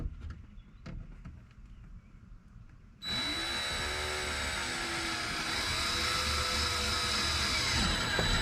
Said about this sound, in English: We're actually gonna use a drill rather than getting out the Dremel